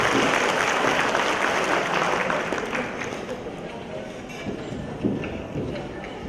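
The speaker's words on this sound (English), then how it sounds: "Warm applause, please." Audience applause at a 2013 regional higher education summit, broad sustained clapping from a large crowd, loud at first and easing slightly over its length, with a murmur of voices underneath.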